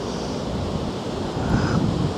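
Choppy sea waves washing along Blackpool seafront on a sunny evening, a continuous rushing surf with wind noise that swells louder toward the end, no talk.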